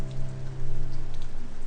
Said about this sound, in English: Outside, evening rain whispered against the window.